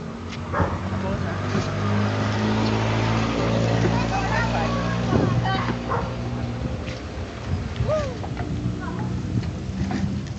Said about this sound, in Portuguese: Olha o carro, Caio.